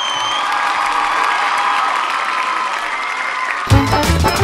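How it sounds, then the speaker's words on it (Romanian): A studio audience at a Romanian reality-show pageant applauds and cheers in a sustained, bright wash of clapping, then a louder burst of voices and music cuts in near the end. "Bravo, aplauze! Aplauze și pentru fete!"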